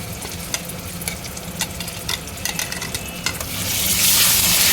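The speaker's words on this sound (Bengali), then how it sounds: "আদা রসুন বাটাগুলো দিয়ে ভালো করে এবার কষিয়ে নেব।" Ginger garlic paste hits hot oil with whole garam masala of cardamom, cinnamon and cloves for tahari, sizzling steadily while a spoon scrapes and stirs in quick irregular strokes; the frying hiss swells louder toward the end.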